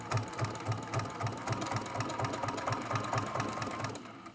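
Sewing machine quilting a straight line through fabric, a steady fast mechanical stitching hum with regular needle pulses, close and continuous, easing slightly at the end.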